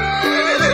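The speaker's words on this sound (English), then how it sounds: "Horse." A horse gives one short, loud, close neigh, a rising and falling whinny under a second long, standing alone.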